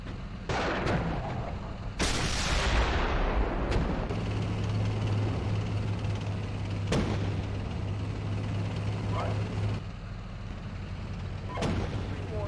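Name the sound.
gunfire and artillery in video game Steel Beasts Pro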